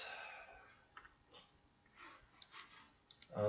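Computer mouse clicking: faint, scattered single clicks close by in a quiet room, with soft breathing and no speech.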